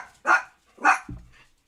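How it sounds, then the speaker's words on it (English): Two sharp, close dog barks ring out a half-second apart, followed by a short low grumble, in an otherwise quiet room. "My dogs are barking."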